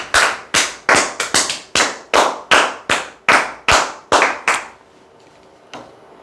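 Audience clapping in about a dozen sharp, evenly spaced rhythmic claps, loud and close, ending abruptly and followed by near silence with one faint tap.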